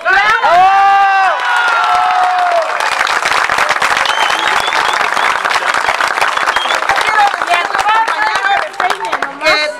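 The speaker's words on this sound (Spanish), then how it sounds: "Todos merecemos un aplauso. ¡Bravo!" Crowd at a street protest in front of an electoral office breaking into applause and cheering, loud and dense throughout, with a voice shouting over the start and claps and shouts continuing steadily.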